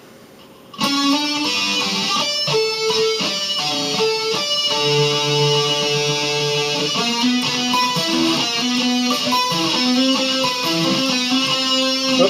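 A guitar plays a riff slowly, picked notes and short chord shapes ringing out in a steady, deliberate pattern, close and clear with no voices.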